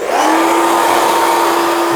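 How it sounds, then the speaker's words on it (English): Hair dryer fitted with a concentrator nozzle blows steadily and loudly for the whole stretch, a constant whirring hum with an airy rush and no talk over it, during a medium-length men's haircut. "if you've got a hairdryer with a nozzle, that'll be perfect"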